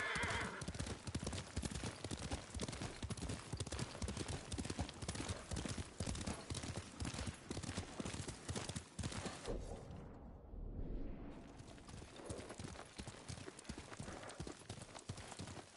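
Galloping horse hooves pound in a steady, rapid rhythm across open ground in the samurai game Ghost of Tsushima, loud and continuous throughout, with a brief whoosh near the middle and no talking.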